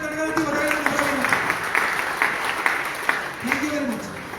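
Scattered applause rises from the audience at a COVID warrior award ceremony, uneven clapping in the room while a voice speaks over it.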